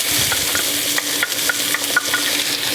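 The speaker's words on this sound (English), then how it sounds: "In with this butter will go our onions" Onions sizzling in about two tablespoons of butter in a pan, a loud continuous close-up frying hiss with light stirring scrapes and ticks.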